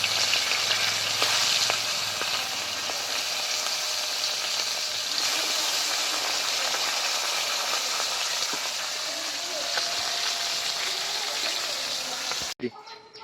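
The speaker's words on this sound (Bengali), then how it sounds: "এত বড় মুড়ো যে একবারে ভাজা যায় না, আমাকে আবার একবার ভেজে নিতে হবে" Loud, dense sizzling of a large catla fish head frying in hot oil fills the clip continuously, close up, with occasional pops and a brief clatter near the end.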